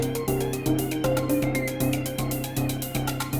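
An Elektron Digitone synthesizer plays a pattern switched into fill mode, with repeating punchy percussive hits and sustained tonal synth notes in a steady, loud rhythmic loop.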